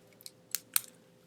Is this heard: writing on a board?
yes